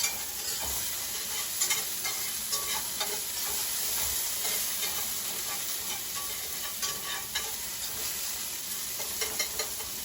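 Diced onions fry in rendered bacon fat, giving a steady, close sizzle with scattered sharp crackles and pops throughout and no voices.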